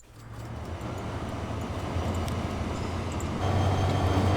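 Steady low rumble of a train running in Transport Fever 2, heard from inside the carriage, a continuous rolling drone that grows slightly louder toward the end, with no talking.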